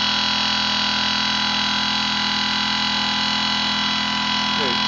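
A BLDC motor runs flat out near 2,500 RPM, giving a steady, loud mechanical whine with constant tonal hum and no change in pitch across the few seconds.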